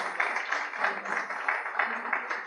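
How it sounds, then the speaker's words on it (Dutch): An audience at a launch evening for an athletics organisation's strategic plan applauds, producing a steady patter of hand claps with a slightly pulsing rhythm, moderately loud and continuous. "Applaus"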